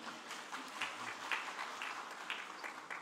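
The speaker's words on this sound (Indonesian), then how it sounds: "Silakan tepuk tangan lagi untuk Pak Parto." Audience applause for Pak Parto at a professor's inauguration ceremony in Indonesia, a steady spread of hand claps from a crowd of moderate size that carries on through the whole stretch, with no voices over it.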